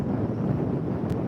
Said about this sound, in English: And it is windy to be out on that point right now